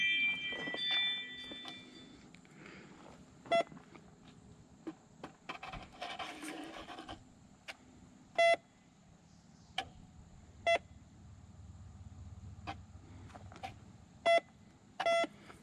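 A metal detector sweeps over a log on a Woodland Mills HM126 Max sawmill, giving short, sharp, faint beeps at irregular intervals over a quiet background of rustling.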